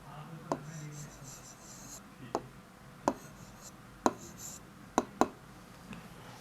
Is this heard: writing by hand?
yes